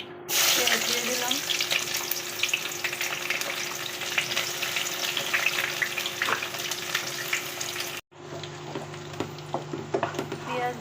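Onions frying in hot oil for chicken biryani, a loud continuous sizzle with scraping stirs throughout, briefly cut off then resuming slightly quieter.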